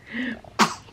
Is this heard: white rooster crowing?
no